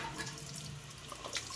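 Residual water trickling down from a Moen Posi-Temp shower valve after its cartridge was pulled, a steady faint running flow heard alone and close.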